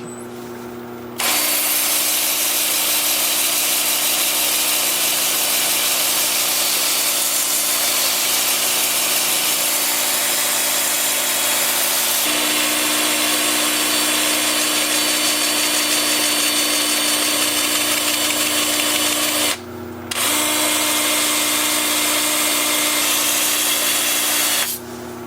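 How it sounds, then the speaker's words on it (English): A 2-inch disc sander works a wood bowl on a lathe spinning in reverse at about 350 RPM, a loud continuous whirring whine that runs steadily, cutting out briefly near the end before resuming. "I'll show you how I'm going to sand this with my 2-inch disc sander"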